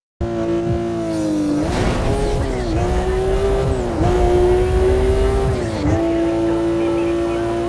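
Racing car in Need for Speed Most Wanted firing its nitro boost: a loud, continuous engine roar that rises in pitch with tire squeal and whooshing rushes, dipping at shifts.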